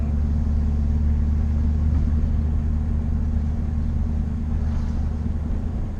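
Steady low engine rumble from a Lincoln Town Car lowrider fitted with aftermarket mufflers, idling evenly and close by with no revving, a deep continuous drone throughout.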